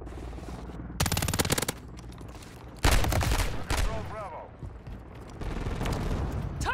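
WSP Swarm SMG in MW3 firing in two rapid full-auto bursts, loud and close, with a voice talking between and after the shots and some lighter battle noise trailing off.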